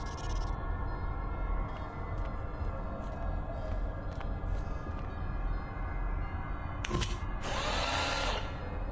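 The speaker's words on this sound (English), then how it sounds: "I think that the fluid tanks can now be drilled" In the video game Stasis, a drill bores steadily into full fluid tanks, a continuous mechanical grinding that holds for several seconds before a sharp clunk and a burst of hissing near the end.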